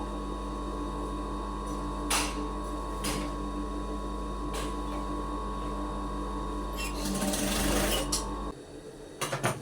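Sewing machine stitching a folded hem on a dress, running in a steady continuous whir with mains hum beneath, close and moderately loud, a few brief knocks and a rattling burst near the end before it stops.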